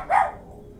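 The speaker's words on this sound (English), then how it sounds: "Dogs, I swear." A single short dog bark rings out once, fairly near, during a live gaming stream of Pulsar: Lost Colony, followed by quiet room noise.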